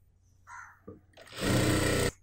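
A sewing machine runs in one short, loud burst, stitching a folded half-inch hem on the bottom of a churidar sleeve made from nighty cloth, after a couple of faint handling noises.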